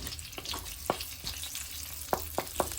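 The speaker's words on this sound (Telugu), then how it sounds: "మనం ప్యాన్లో ఆయిల్ యాడ్ చేసి మినపప్పు, ఆవాలు, ఎల్లుల్లిపాయ అలానే రెడ్ చిల్లీ వేసి వేయించండి" Urad dal, mustard seeds, garlic and red chilli fry in oil in a pan, a close, steady sizzle punctuated by sharp pops and spatula scrapes.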